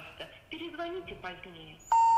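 A telephone dials a number during a call in a Russian comedy show. Someone speaks, then short, steady keypad tones sound clearly at the end.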